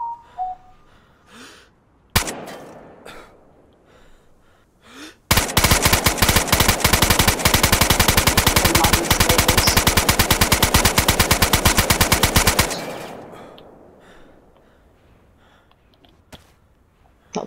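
Sustained automatic gunfire in the video game DayZ, a dense rapid burst lasting about seven seconds, loud and close, preceded by a single sharp shot and followed by quieter scattered sounds.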